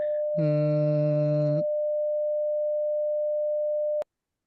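A steady, pure 600 hertz electronic tone for Morse code practice holds for about four seconds, with a brief buzzy chord near the start, then cuts off abruptly with a click.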